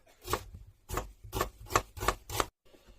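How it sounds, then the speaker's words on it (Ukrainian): A knife finely chopping two medium onions on a board for a cheeseless pizza gives five or six close, raspy strokes in an uneven rhythm, alone without talk. "Беремо дві середніх цибуліни і дрібно нарізаємо"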